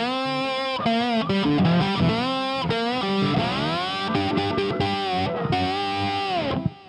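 Distorted rock slide guitar plucked with the fingers rather than a pick, sustained gliding notes bending smoothly between pitches over nearly seven seconds, loud and continuous with rich overtones and no voice.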